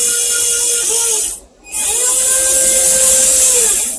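A small N20 gear motor with an M4 threaded shaft and nut drives the moldboard side shift on a 1:32 scale radio-controlled 6x6 motor grader, giving a steady high whine, a brief stop, then another continuous run.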